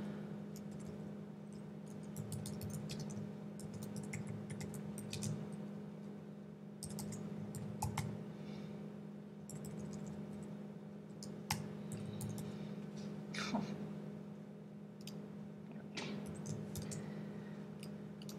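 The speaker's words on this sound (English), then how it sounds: "so now I can type in my title page what I want." Someone types on a computer keyboard while filling in an Excel spreadsheet, giving faint, irregular runs of light clicks over a steady low electrical hum, with no talking.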